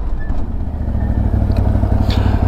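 A CFORCE 1000 Overland ATV is recorded onboard during a braking test, its engine a steady low rumble with some rattling clatter over it, close and fairly loud.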